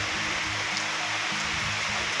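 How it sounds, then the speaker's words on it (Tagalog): Heavy rain pours again on a farm in the countryside, a steady dense hiss and wash with a low rumbling undertone, close and continuous throughout without any voices. "Oh, lakas na naman ang ulan."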